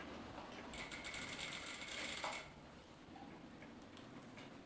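Sewing machine stitching a corset seam, a quiet steady whir with fine rapid ticking for about two seconds before stopping, leaving faint room noise.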